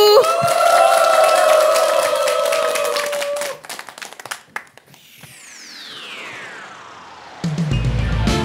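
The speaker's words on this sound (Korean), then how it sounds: "박수." Audience applause at a Korean TV sing-along music class: after a held musical tone cuts off, scattered claps ring out for a couple of seconds before a sweeping electronic whoosh and the band starts.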